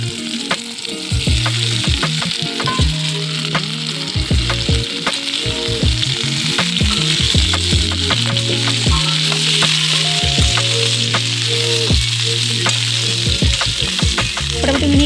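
Amla (Indian gooseberries) fry in hot oil with bay leaf, five-spice, and dried and green chillies, a steady loud sizzle broken by frequent scraping stirs of a spatula against the pan, with no talking.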